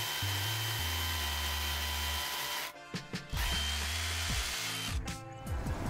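A cordless DeWALT DCH263 rotary hammer drills with a steady, harsh hammering buzz, stopping briefly, restarting and shifting in pitch as it works close by.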